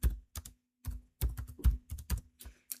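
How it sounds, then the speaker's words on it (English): Someone types on a computer keyboard while working in an Excel spreadsheet, producing a dozen or so quick, close keystrokes in uneven bursts with short gaps, no voices. "So we'll type delete column again"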